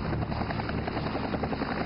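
Steady high-pitched buzzing whir of a small remote-controlled helicopter hovering nearby, constant and unbroken.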